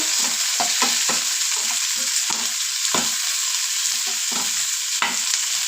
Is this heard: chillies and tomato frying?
yes